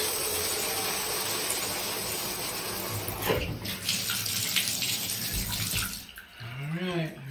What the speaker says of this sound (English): Now it doesn't drip anymore, just whatever's in the pipe